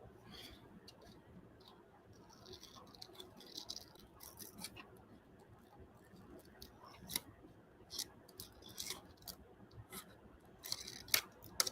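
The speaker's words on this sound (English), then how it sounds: "Scissors, yes." Quiet, intermittent snips of scissors cutting paper at a home crafting table, with soft rustling and handling noises between cuts.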